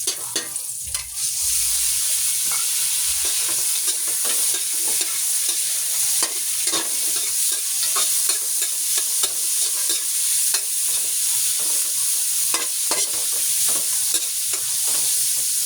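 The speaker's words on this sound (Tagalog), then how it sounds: "Kapag lumabas na ang kanyang aroma flavor, igisa na natin ang pork." Garlic and pork sauté in a pan with a bright, continuous sizzle and frequent scraping stirs, loud and close, holding steady with no voices present.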